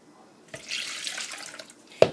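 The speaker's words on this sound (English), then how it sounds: "we're going to add 3 cups of milk" Milk poured into a small mixing bowl for a caramel pie, giving a short, soft liquid stream of about a second and a half that opens and closes with faint clinks.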